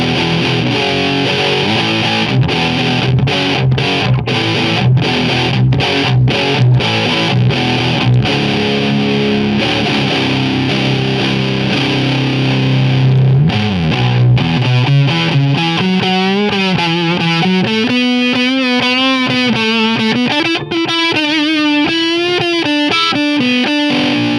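Guitar chords strummed through a tube amp with transistors jammed into its tube sockets, giving a harsh, gated, sputtering blocking distortion: choppy rhythmic strums at first, then ringing sustained chords with wavering pitch, loud and close throughout.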